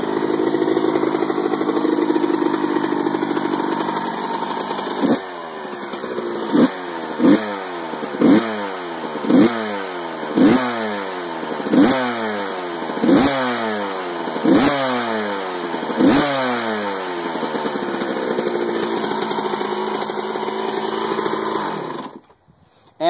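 A Yamaha YZ125 dirt bike engine idles with a buzzy two-stroke note, then is blipped about eight times in a steady rhythm, each rev climbing and falling, before settling back to idle and cutting off abruptly.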